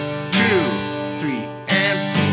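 A guitar strummed in a rhythmic pattern with tied strums, chords ringing with accented strokes and sliding notes, clear and close with no voices.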